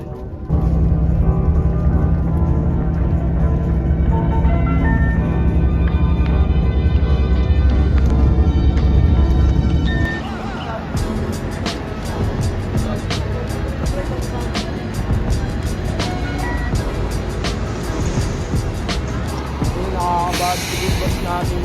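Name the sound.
bus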